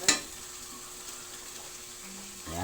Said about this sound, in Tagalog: At gigisa lang natin yan hanggang sa ay lumambot.